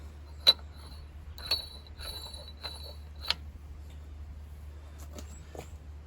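A large nut threads dry onto the clean threads of a Ford/New Holland tractor front axle hub, producing a few sparse metallic clicks and scrapes up close over a low steady hum.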